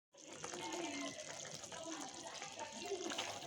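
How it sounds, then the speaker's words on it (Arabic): About a quarter cup of water is poured into a pot of stewed kebab hala. It makes a steady splashing gush that starts suddenly and runs for several seconds. "طبعا هحط ربع كوبايه ميه دلوقتي واغطيها"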